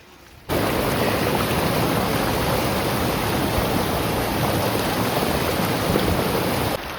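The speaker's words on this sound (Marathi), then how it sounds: "वळीव पाऊस आलाय पाणी तर बिराडात पार शिरलं शिरलंय बघा" Heavy unseasonal rain pours down at a herders' encampment with water flowing in, making a loud, dense, unbroken roar that starts abruptly and continues without any voices.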